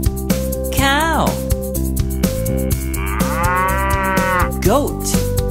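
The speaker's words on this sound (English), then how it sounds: "Cow. Cow," A cow mooing in a children's animal-words song, long drawn moos rising and falling over a bright, steady musical backing.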